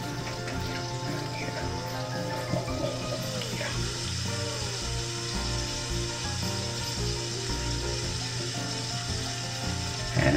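Brown sugar smashburger patties sizzle on a Blackstone griddle, giving a steady, even frying hiss that holds at moderate volume from start to finish with no talking.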